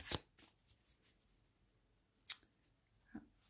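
A deck of tarot cards is riffled and shuffled in a quiet room: a brief crisp burst at the start, then two more short sharp shuffles spaced apart, close but faint.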